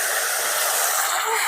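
Water added to a frying spice paste of coriander and turmeric powder hisses in a loud, steady sizzle that fills the whole moment.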